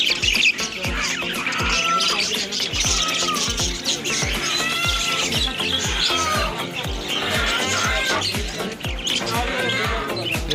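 Pet budgies in a breeding setup chirp and warble continuously, many birds calling at once in bright overlapping tweets over a rhythmic low thumping beat.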